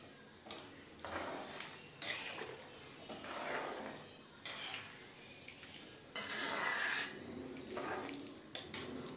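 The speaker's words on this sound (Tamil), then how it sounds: "பருப்பை சேர்த்துட்டு நல்லா மிக்ஸ் பண்ணி விடுங்க." Scraping and clinking of a spoon stirring lentils for sambar inside a cooking pot, with wet swishing bursts repeating every second or two, close by.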